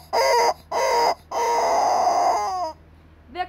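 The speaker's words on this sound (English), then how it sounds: "Victory chicken!" A rooster crows as a game victory sound: three loud, close calls, two short bursts and then a long drawn-out crow that trails off, with a brief extra note at the end.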